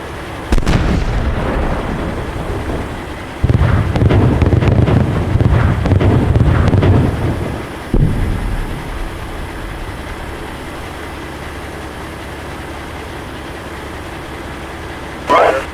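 Artillery fire in the tank simulator game Steel Beasts Pro PE, set during a Russian attack in northeast Ukraine: a few loud booming blasts with rumbling roars between them, then a long low wind-like rumble and one last distant burst.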